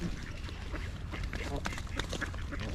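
Ducks quack by the water amid a noisy outdoor wash, their calls mixed with voices of people feeding them nearby.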